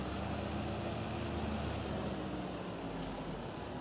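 A tractor pulling a fertilizer sprayer reverses slowly in Farming Simulator, giving a steady low diesel rumble with a constant broadband engine drone, near and continuous, with a brief higher hiss near the end.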